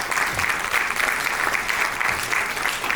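A crowd at a university alumni meet applauds as a guest comes onto the stage, producing a full, sustained wash of clapping that stays loud and even.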